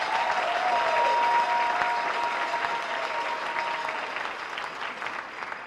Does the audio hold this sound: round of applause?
yes